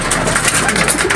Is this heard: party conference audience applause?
no